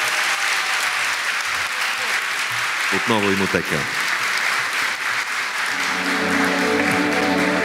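Steady crowd applause rolls through a real estate awards ceremony hall, continuous and loud, while a presenter's voice briefly cuts through the clapping and music rises underneath toward the end.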